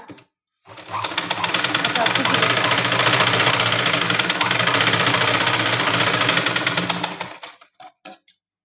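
Sewing machine running steadily for about six seconds, stitching blouse cloth, a dense rapid mechanical whirr with rhythmic needle clatter that stops abruptly and is followed by a few short bursts.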